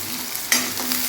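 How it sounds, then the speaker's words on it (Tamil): Chopped onions sizzling and frying in a hot pan, a steady close crackle with a sharp stirring scrape partway through. "இதில் சேர்த்து நல்லா வதக்கிக்கலாங்க"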